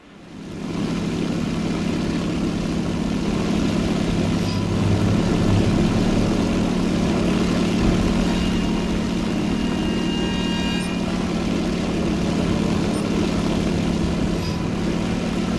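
Propeller bomber aircraft in War Thunder, a steady, loud droning engine hum with a constant low tone, holding evenly throughout with no talk.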